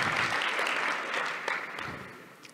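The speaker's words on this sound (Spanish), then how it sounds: "Ah, un aplauso." Sustained applause from a conference audience, steady dense clapping filling the room throughout with no voices over it.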